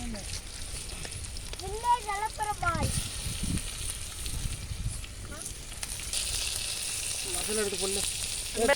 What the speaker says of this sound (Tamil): நண்பர்களே நம்ம இப்போ ஈரலை போட்டுக்கலாம்.